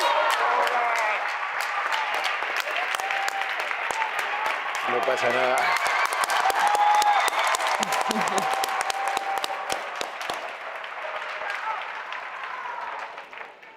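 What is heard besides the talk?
audience applause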